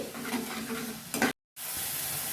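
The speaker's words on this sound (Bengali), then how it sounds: "একটু জল দিচ্ছি ভালো করে মিক্সড করে নিচ্ছি" Ginger paste, turmeric and chili powder stirred with a splash of water in a hot pan for a Bengali fish curry, giving a close sizzle with scraping stirs, a brief louder burst, then a short cut to silence before the frying resumes.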